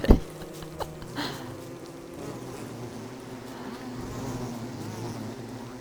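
Bees buzz in the Don't Starve Together video game, a continuous low droning hum that holds steady throughout after a brief click at the start, with no talk.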